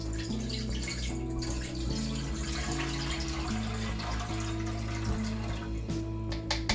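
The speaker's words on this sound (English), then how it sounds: "when I pour it into our pot, I'm going to pour it right through the sieve again." Redbud tea poured through a sieve into a pot, a continuous splashing, gushing stream of liquid that runs steadily from start to finish, close by, with a low tonal hum underneath.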